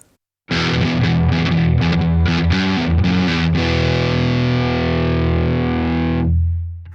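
A heavily distorted Ibanez RG6003FM electric guitar, on pickup position two, plays a few quick notes, then lets a thick chord ring out loudly until it is cut off.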